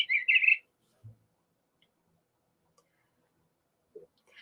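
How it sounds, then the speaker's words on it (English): Male bluebird calls in a yard, a short burst of soft chirps at the start, then faint isolated notes with a brief chirp near the end, quiet gaps between, no talk. "you can hear the call of this male bluebird"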